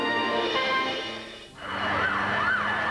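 Fire engine sirens wail while racing to a raging fire at a 12-story office building in New Delhi, India; a steady tone dips, then sweeping rising-and-falling wails follow, loud and close.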